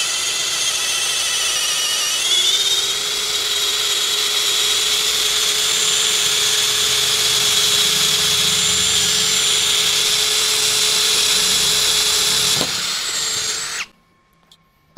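A DongCheng cordless impact drill with a threaded self-drilling bit whines steadily for a long stretch, its pitch climbing as it bores into meranti wood on speed 1, then abruptly cuts off into near silence.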